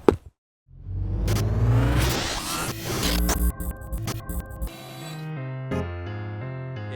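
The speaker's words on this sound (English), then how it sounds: "And actually, we're going to go on a test drive." A Ford E-Transit electric van on a test drive, a loud rising whir and rushing road noise building after a brief silence, then settling into a steadier hum with some knocking and rattles.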